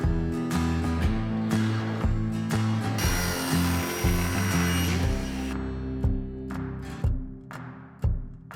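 A table saw trims a little more off each side of a wooden taper and jointer jig part, the blade's steady whine broken by several short cutting passes and a couple of louder bursts, close and loud with no talk.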